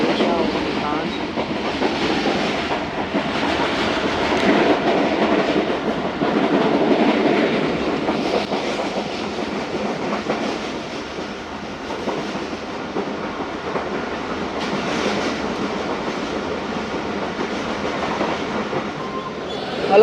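Near Multan Cantt, at night, the 47Up Rehman Baba train runs along the rails at speed with a loud, continuous rumble and rhythmic clickety-clack of wheels over the joints, heard close by.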